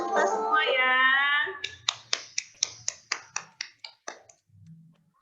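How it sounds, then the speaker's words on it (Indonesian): Children clap in a classroom, about ten sharp, evenly spaced claps following a voice speaking, then a short voice again at the end. "Yuk, beri tepuk tangan untuk kita semua ya."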